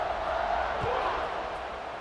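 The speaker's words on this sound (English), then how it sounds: "this crowd is buzzing after that last score." A football stadium crowd buzzes with a steady, dense roar of overlapping voices after a score, continuous and fairly loud with no single voice standing out.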